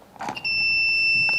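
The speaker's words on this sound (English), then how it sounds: "the buzzer goes off until the owner of that car" A parking slot sensor's buzzer on a small breadboard setup sounds a steady, high electronic tone that switches on after a brief rustle and holds unbroken to the end.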